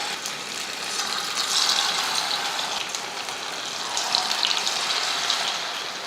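Marinated fish fries in hot oil in a pan, giving a continuous bright hiss and crackle with fluctuating intensity, close and steady, with no talking.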